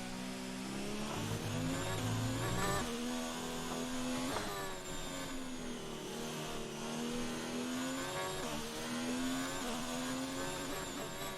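Formula One race car engine in the F1 2019 racing game on the Spanish circuit, a loud high-pitched whine rising and falling steadily through gear changes as the car is pushed through corners on the edge of oversteer, with no talking.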